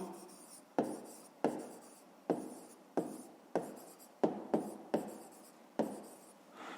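A pen writes on paper while a maths exercise is worked through, making close, quiet scratchy strokes in a steady series of about ten short bursts, with no talk.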